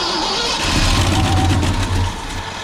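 A 1968 Ford F100 truck engine cranks with a rhythmic starter churn, then catches and runs rough and loud up close before settling toward idle.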